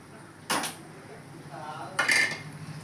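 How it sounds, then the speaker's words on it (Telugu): A mixer grinder jar knocked and set down on a kitchen counter while making almond milkshake, two sharp clattering bursts about a second and a half apart, with faint ringing in between. "ఇది నేను మిక్సీ పట్టుకొచ్చుకుంటానండి."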